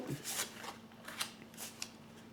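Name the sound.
drawing a card from a healing whispers oracle deck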